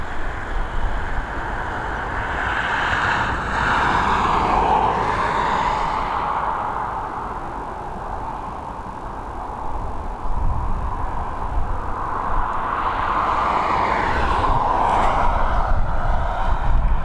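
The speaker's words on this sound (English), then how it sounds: "But Malta Air ready, or almost ready for departure. She's taxiing towards us." An airliner taxiing at Dublin Airport gives a steady, fairly loud engine rumble with a broad hiss that swells and eases over the whole stretch, heard on its own.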